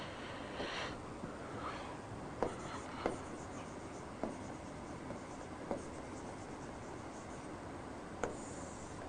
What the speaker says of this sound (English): Just let me erase this.